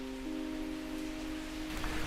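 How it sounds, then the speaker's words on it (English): Rain falling over a small garden patio with a large avocado tree in Bangalore, a steady even hiss of drops that holds throughout, with a faint tonal hum underneath and no talk. "Now, it's not usually raining in Bangalore right now."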